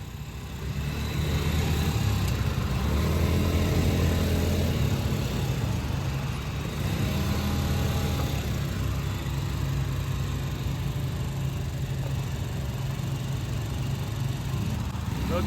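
ATV engines run steadily while the quad bikes queue to park after a tour in Cappadocia, a continuous low rumbling idle close by, with occasional faint talk in the background.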